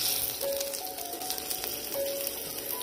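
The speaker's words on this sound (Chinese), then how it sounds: "我这里也同时试着不穿烫直接煎肉" Pork belly frying directly in a hot pan without blanching, the skin crisping, giving a steady close sizzle of spitting fat with faint higher crackles throughout, no voices.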